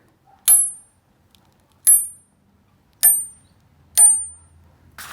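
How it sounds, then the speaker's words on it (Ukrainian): A steel knife blade is struck four times at a steady pace, each strike giving a bright, high ringing tone that fades quickly. "А тепер слухайте, як дзвонить оцей ніж."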